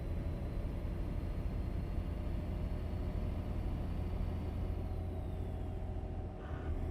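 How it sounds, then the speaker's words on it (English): A steady, heavy engine drone with deep low rumble runs throughout, like a truck cruising, dipping briefly near the end. Truck engines in a truck driving video game. "And also, don't these trucks sound fucking lovely?"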